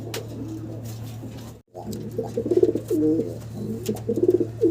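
A pair of Lahore pigeons, including a feisty male, coo in repeated soft bursts close by, over a steady low hum, with a brief silent gap early on.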